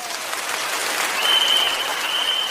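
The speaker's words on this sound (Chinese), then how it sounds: "咁啊要麻烦大家咧，俾啲热烈嘅掌声" Audience applause at a live stage show, a steady, moderately loud wash of clapping with a faint high tone running beneath it.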